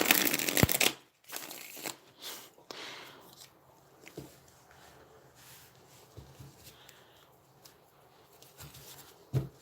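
A tarot deck is shuffled by hand in soft, irregular bursts of card riffling and sliding, loudest at the start and then quieter patters and taps, with no talking.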